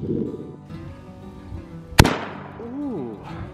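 A single sharp, loud 20 gauge shotgun blast at a target rings out near the middle with a fading echo tail, amid outdoor murmur and a voice speaking afterward.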